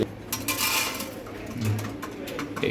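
A pair of racing pigeons coo softly close by, their low murmuring calls mixed with light clinks and clatter.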